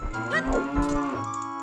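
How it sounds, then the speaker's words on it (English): Cow in The Legend of Zelda: Ocarina of Time, a single close, loud moo that rises and falls through a drawn-out call. "Cow."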